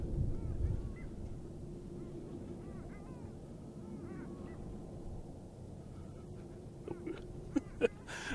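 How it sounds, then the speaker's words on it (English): Honking calls like a goose or duck ring out repeatedly around a busy airport by the water, faint and somewhat distant over steady outdoor background rumble, with a couple of sharper, louder bursts near the end. "It's a weird bird sound going on around me."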